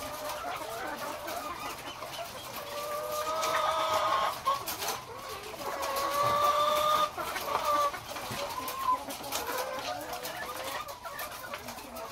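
A flock of laying hens clucks and murmurs continuously while eating Madre de Agua feed, with louder overlapping calls rising in the middle against a farmyard background.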